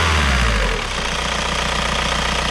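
A VW 1.9 TDI 110 hp diesel engine, after an injection timing adjustment for hard starting, revs up loudly and close, then settles into a steady, rough, clattering diesel run.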